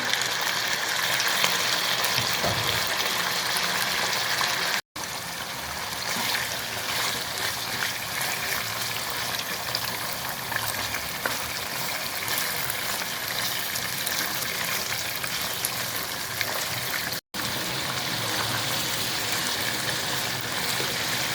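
Chicken pieces frying in a pan with lightly fried garam masala for a dhaba-style chicken curry, giving a steady loud sizzle and hiss that runs for about twenty seconds with no voices over it.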